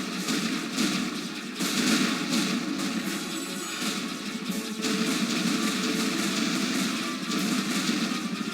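Explosions burst repeatedly during a flight sequence in the video game Jade Empire, a dense, rumbling barrage of blasts and booms that rolls on continuously with brief swells in intensity.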